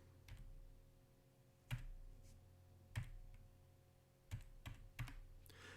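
A handful of quiet, irregular keystrokes on a Kinesis computer keyboard, heard close up against a faint steady hum with pauses between taps.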